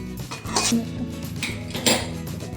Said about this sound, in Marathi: भाजून घेतलेला रवा अशा पद्धतीने एका बाउलमध्ये काढून घ्यायचा आहे.